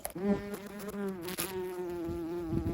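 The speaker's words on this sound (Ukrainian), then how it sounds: "Так, оса. Іди звідси. Прямо на телефон сіла, ну." A wasp buzzes close by at a lakeside spot, landing on a phone; a steady, loud droning hum with wavering pitch runs continuously throughout, with no talking.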